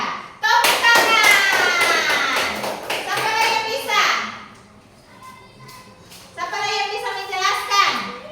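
Children in a classroom clap in rhythmic bursts, mixed with loud, overlapping children's voices and chanting, then a quieter pause before another round of clapping and talk.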